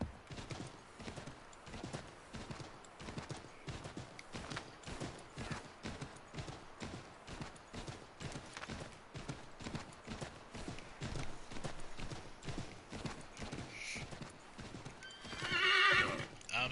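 A horse in the video game Assassin's Creed 3 trots with steady rhythmic hoof clip-clops out in the wilderness, then neighs loudly near the end, with faint game ambience beneath.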